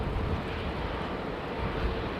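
Boeing Dreamliner jet departing from runway 09, a steady broadband engine roar that holds loud and close throughout, with wind buffeting the microphone.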